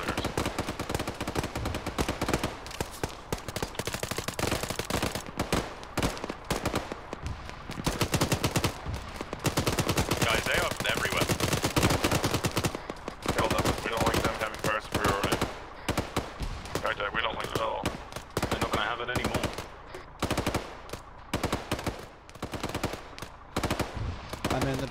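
Dense automatic gunfire in a military video game with Afghan hillside combat, as a player shoots at enemy squad leaders. Rapid machine-gun bursts and single shots crackle almost without pause, close and loud, while voices talk over them.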